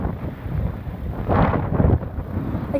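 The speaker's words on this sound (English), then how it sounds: "this is another storm" A thunderstorm at a Florida beach brings a low rolling rumble of thunder swelling in the middle, heard through steady wind buffeting on the microphone and a wash of rain.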